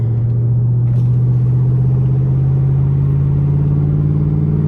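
A Camaro SS driven at night with the window down, a steady low engine drone and road rumble holding even and loud throughout, no voices.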